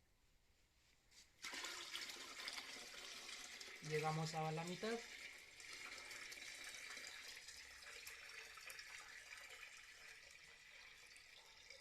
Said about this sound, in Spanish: Vamos a vertir el agua.